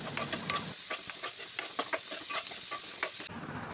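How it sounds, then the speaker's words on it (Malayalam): Chopped onions sautéing with oil and salt in a pan, a steady close sizzle broken by scraping, stirring strokes throughout, with no one talking. "ഇതിലേക്ക് ആവശ്യത്തിന് ഉപ്പും കൂടെ ഇട്ട് കൊടുത്ത് സവാള നന്നായി ഒന്ന് വഴറ്റിയെടുക്കാം"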